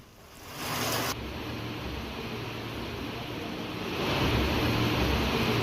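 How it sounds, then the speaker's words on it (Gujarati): Heavy monsoon rain driven by strong wind in Rajula, Amreli, a steady broadband roar that swells louder toward the end, with gusty wind buffeting close to the microphone and no voices. "રાજુલામાં ધોધમાર વરસાદ, પવન સાથે વરસાદ વરસી રહ્યો છે"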